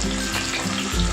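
Chopped onion sizzling in hot oil for a Kerala-style duck roast, a steady, dense frying hiss that swells slightly near the end.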